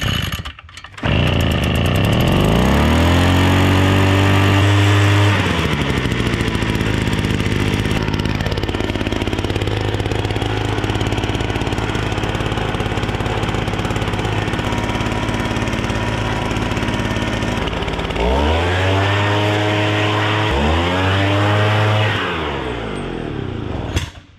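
A Wild Badger 53cc two-stroke backpack leaf blower engine starts and runs loud and close, revving up sharply, then holding a steady high drone for most of the stretch before dipping and revving twice again near the end.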